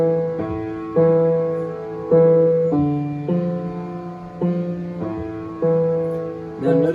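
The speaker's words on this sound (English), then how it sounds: "Now the left hand, if we look at it by itself, is down here, and it sounds like this on its own." A piano plays the left-hand part of Hatikvah alone, low notes struck one after another in a short-long rhythm, each note ringing on clearly and close, with no talking.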